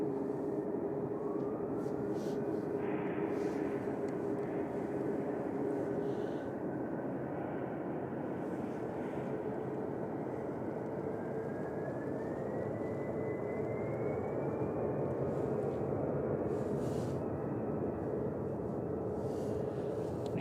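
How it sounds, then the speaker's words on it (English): An EasyJet airliner on its takeoff roll at Manchester Airport on a foggy day, a steady, heavy engine roar that stays constant, with a rising whine audible across the whole stretch. "EasyJet on the roll to..."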